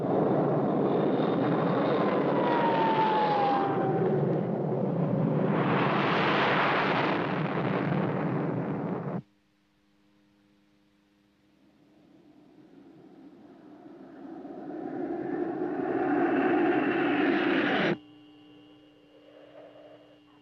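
Fighter planes flying toward a missile, a loud jet roar that cuts off abruptly, then a second rising engine rush that swells and stops suddenly into a low hum.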